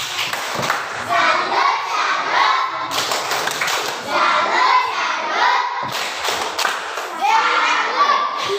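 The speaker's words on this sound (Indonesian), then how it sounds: "kita tepuk salut untuk Dewi" Children in an Indonesian primary classroom clap a rhythmic 'tepuk salut' cheer together, with repeated bursts of close, busy hand claps and young voices calling out over them.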